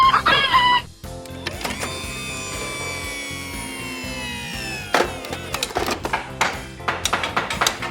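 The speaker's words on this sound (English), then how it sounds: "You've started clucking like a hen." A cartoon construction vehicle, a wrecking ball truck, makes hen-like clucking: a warbling, tonal call, then a rapid run of sharp, loud clucks toward the end.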